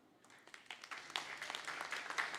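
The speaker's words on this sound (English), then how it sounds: "Warm applause for the declarations of the B-Gaad 2 2025" Faint audience applause at a grand opening ceremony in Bali, Indonesia, a dense patter of many hands rising gradually from quiet and holding steady, heard from a distance.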